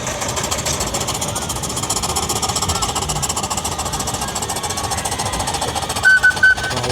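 Heavy steam traction engines chug and rumble continuously nearby at a steam fair, a rapid mechanical knocking with a few short whistle-like toots near the end.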